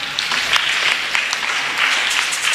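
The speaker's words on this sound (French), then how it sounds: "On acclame." A church congregation applauding at a Sunday service, dense continuous clapping from many hands that swells slightly in places, fairly loud and close, with no speech over it.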